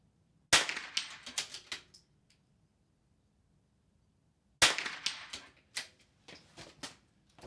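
A .22 rifle on a bipod, in prone position at a shooting range, fires two sharp, close shots about four seconds apart, each followed by a short run of metallic clicks and clatter.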